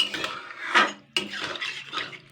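Atta mixture stirred in a pan with clinking and scraping from the utensil against the metal, in a few uneven strokes close by.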